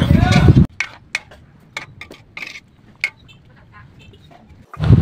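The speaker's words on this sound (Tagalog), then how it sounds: "Huwag nyo kalilimutang haluin dahil yan po ay maninikit sa kawali" A utensil stirs oxtail kare kare in a pan, giving sparse scraping clicks and taps against the metal, with bursts of louder sizzling or bubbling at the start and end.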